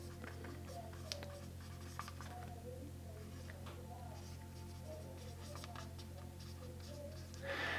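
Pen writing on paper, soft scratchy strokes in short bursts with small taps, quiet and close, with a louder rustle at the end.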